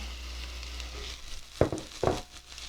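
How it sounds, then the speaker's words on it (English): Chopped onion sautéing in olive oil in a cast iron pan, a soft low sizzle with two sharper bursts of spatter near the end, close and quiet. "We're going to go ahead and saute the onion."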